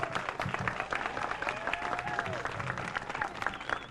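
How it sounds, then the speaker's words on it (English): A crowd at a community memorial for two closing BARC programs applauds steadily, a dense wash of clapping with some voices and a whistle-like tone mixed in, sustained throughout. "let's give him a big round of applause"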